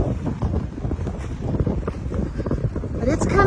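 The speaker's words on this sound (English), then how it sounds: "Mostly though, it's cold and windy, really windy." Strong wind rumbles and thumps against the microphone in uneven gusts, with a voice faintly mixed into the roaring buffeting.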